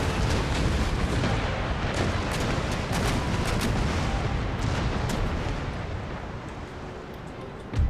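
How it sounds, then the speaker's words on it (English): Rockets fired at a first-rate ship during a naval battle in Empire: Total War, producing a dense, continuous roar of overlapping blasts and crackling bursts that fades slightly toward the end before a final thump. "And here come more rockets for that first rate."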